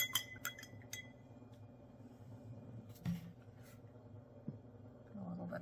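A spoon clinking against a glass while stirring vinegar and grape juice egg dye, a few sharp close taps at the start and later, otherwise quiet.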